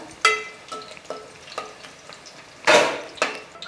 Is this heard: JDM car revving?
no